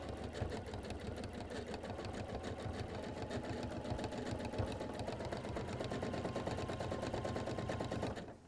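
Sewing machine free-motion stitching a spiral of couched yarn, a fast steady needle clatter running continuously up close before stopping at the end.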